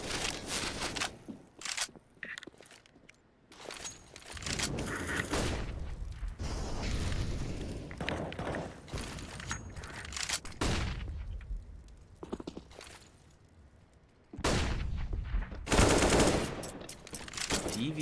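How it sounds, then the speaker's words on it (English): Counter-Strike AK rifle fire in an ESEA Premier esports match: bursts of rapid gunshots and clattering game effects come in loud clusters separated by quieter stretches, with footsteps and mechanical sounds between them. "Each player attempting to take out the other with a quick AK headshot there"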